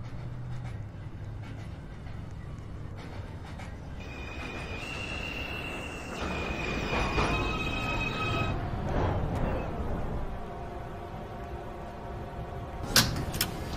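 A New York City Subway 2 express train pulls into 231 St station, a steady rumble with squealing brake tones and rising, falling whines as it slows, ending with a sharp clunk.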